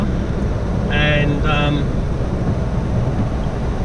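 Steady wind noise rushes and buffets throughout on a rainy day, loud and close, with a brief voice speaking over it partway through.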